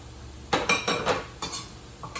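Quartered mushrooms being stirred in a pan, a few sharp clinks and scrapes of a utensil against the cookware in short clusters over a quiet background, with no speech.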